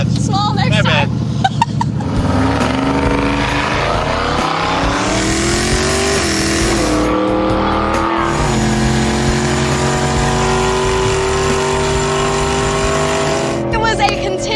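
A hot rod drag car roars through a continuous pass, its engine revving loud and close and rising in pitch through the gears, with people talking over the noise at the start and end.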